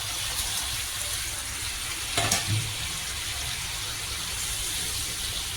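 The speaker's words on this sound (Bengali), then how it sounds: "মাছগুলো দিয়ে ফুটিয়ে নেব কিছুক্ষণ" Bhetki fish simmers in a bubbling curry gravy with a steady, close hiss and burble, broken once by a short clink near the middle, and nobody speaks.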